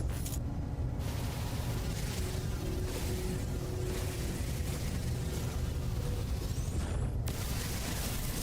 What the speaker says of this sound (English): All those little rumbles and explosion-y sounds is this mountain erupting.